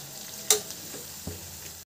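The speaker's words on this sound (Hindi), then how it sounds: "और अब हमें इसे गोल्डन ब्राउन करना है।" Onions fry toward golden brown in a pan for a desi mutton paya, a steady close sizzle broken by a sharp spoon clink and a couple of stirring scrapes.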